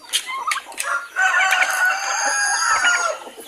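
A rooster crows loudly and close by among clucking chickens in a Filipino backyard flock kept for hatching chicks, with short calls at the start followed by a long, drawn-out crow.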